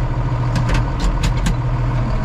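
The smallest available farm tractor, used for small square baling, runs steadily at close range with a loud, continuous low engine drone and a few brief higher rattles layered over it.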